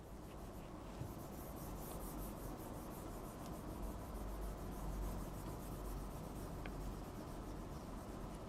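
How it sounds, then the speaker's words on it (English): Steady dry rubbing of an eraser across a board after a physics lesson on lenses, a continuous scrubbing rasp lasting throughout, fairly close and with no talking. "Let me erase it."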